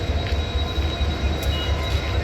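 A local train rumbles past nearby on the Thane–Pune route with a steady low roar and faint metallic wheel squeal, no voices.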